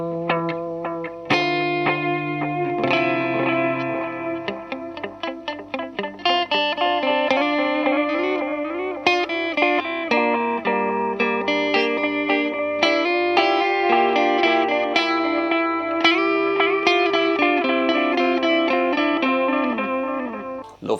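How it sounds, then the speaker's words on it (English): Guitar runs through an El Capistan tape echo pedal set to a darkish tape tone, slight wow and flutter, a high mix and medium repeats, giving sustained chords and notes that trail off in soft, smeared echoes throughout. "So this is the El Capistan dry with moderate, slightly darkish tape tone, bit of wow flutter on there, and then fairly high mix and medium repeats."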